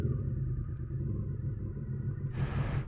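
A motorcycle engine rumbles steadily at idle, close by, with a short burst of hiss near the end of the clip.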